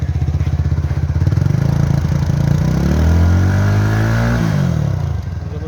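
A 2021 Benelli TNT 251S motorcycle engine idles with a rapid throbbing putter, then revs up loudly and winds back down, close by and continuous.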